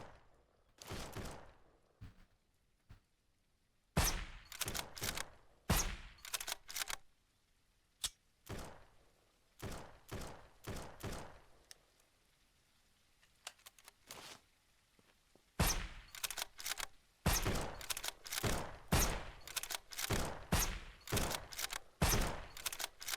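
Sharp, loud sniper rifle shots ring out in the Surroundead zombie survival game, first as sparse isolated cracks, then in a rapid close cluster toward the end, over a quiet background.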